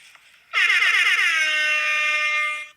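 A single loud air horn blast starts abruptly with a stuttering pulse, then holds as a long steady blare for about two seconds before cutting off.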